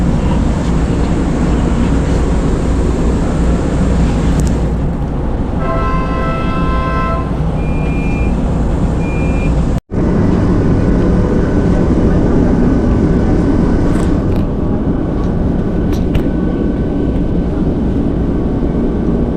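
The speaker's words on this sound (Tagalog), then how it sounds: "Traffic oh." Road traffic with trucks and cars makes a loud, continuous roar, with a horn toot partway through and a brief dropout near the middle.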